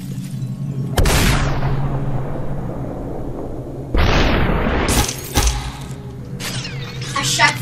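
Gunshots in the video game SuperHot: two sharp, loud shots with shattering glassy tails about three seconds apart, followed by smaller crashes and clatter, with some speech between them.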